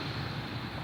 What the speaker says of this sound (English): You can probably hear the waves in the background.